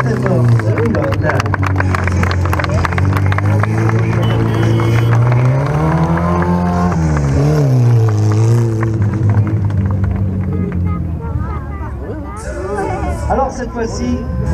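Stunt car balanced on two wheels at a Hell Drivers show in Le Guilvinec, its engine revving loudly and continuously with rising and falling pitch while an announcer talks over it.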